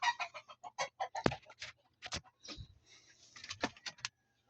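A hen on a farm clucks close by in a quick series of short bursts, some louder squawk-like calls, tapering off at the end against quiet surroundings.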